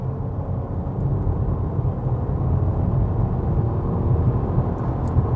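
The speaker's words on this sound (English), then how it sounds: "What's not so relaxing is when you rev the 1 litre engine in this car out" A 2018 Honda Civic's 1-litre petrol engine revving, a steady, fairly loud, slightly rough drone heard from inside the car with no talking.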